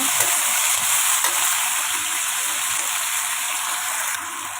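Continuous close sizzling of food sautéing in a pan for a Chinese canton noodle dish, with soft stirring scrapes scattered through the steady hiss.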